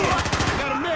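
Rapid automatic gunfire from the video game Battlefield Hardline rattles in a brief burst of loud, close shots, with a voice in the game chatter.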